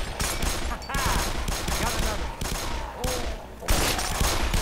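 Rapid gunfire from several weapons in the video game Black Mesa rattles in loud bursts with brief pauses, and a voice talks briefly over it.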